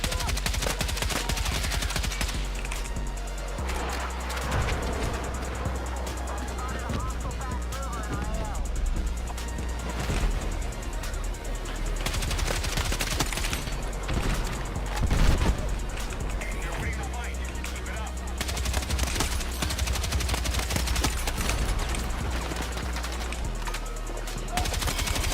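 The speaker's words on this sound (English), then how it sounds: "Enemy machine gun!" Enemy machine gun fire in the video game Battlefield 6: sustained rapid bursts rattle loudly throughout, mixed with heavy impacts, rumbling battle noise and voices talking over it.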